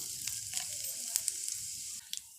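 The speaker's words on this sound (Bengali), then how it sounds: "মশলাগুলোকে হালকা করে ভাজা করে নেব" Cumin seeds and crushed dried red chillies sizzle in hot oil in a wok, a steady close hiss with sharp little pops that eases off near the end.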